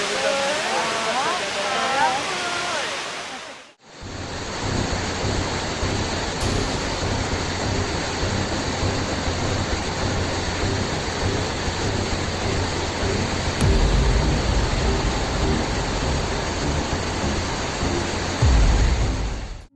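Atlantic surf pounds the rocky Portuguese shore at a spot called the Mouth of Hell, a steady, loud roar of crashing waves with surges of heavier spray, after a brief opening of other sound.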